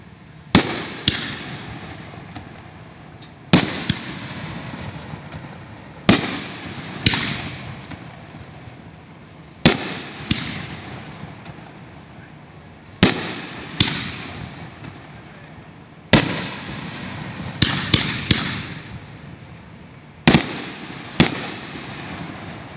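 A 2.5-inch nine-shot Freaky Frankenstein firework fires a series of loud sharp launches and booming breaks, each followed by crackling decay, spaced irregularly across the clip with no talk.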